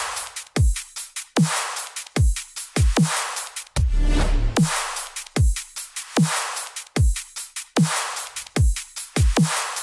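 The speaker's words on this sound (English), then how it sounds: "And here are the drums." Drums of a melodic dubstep drop play alone: punchy kicks with pitch-dropping tails and bright snare or clap hits in a steady half-time pattern, with a brief low rumbling fill near the middle.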